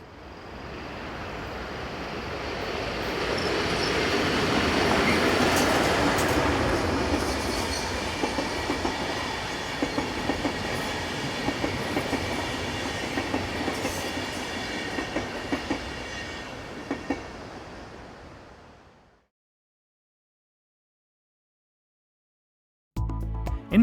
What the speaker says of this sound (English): we see 11181 arriving with train IR 2327, the 1404 from Basel to Locarno.